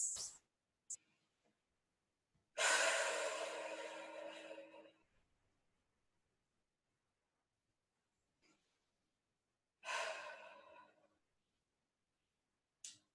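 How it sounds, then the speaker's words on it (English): Slow, deep breaths drawn in and let out, two long airy exhalations separated by silence, close and quiet with a few small clicks between. "let's just together close our eyes and take a few deep breaths"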